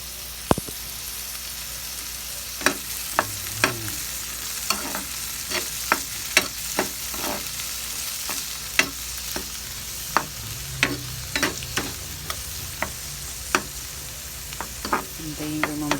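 Tomatoes sautéing in a pan for a mung bean dish, a steady low sizzle broken by frequent sharp scrapes and clicks of a utensil stirring against the pan, close and alone with no talk.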